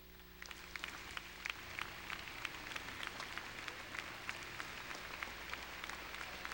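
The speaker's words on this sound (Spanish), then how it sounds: "vamos a darle un aplauso al Señor" A congregation claps in praise during a Spanish-language church service, the applause faint and distant with individual claps standing out over a low electrical hum.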